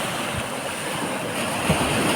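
Sea waves washing onto the beach at Fontanka, Odesa, on a cool morning, a steady close surf wash with wind buffeting the microphone and no voices.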